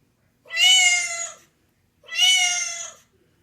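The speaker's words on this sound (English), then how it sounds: "But that is a cat." A cat gives two separate, clear meows about a second apart, each drawn out and falling slightly in pitch, close and alone in silence.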